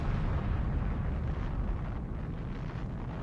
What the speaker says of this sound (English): MOAB, short for Massive Ordnance Airburst, quickly became known as the mother of all bombs.